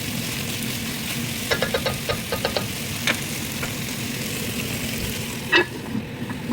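Chicken and fresh garden vegetables sautéing in a pan give a steady low sizzle, with scattered sharper clinks and stirring knocks now and then.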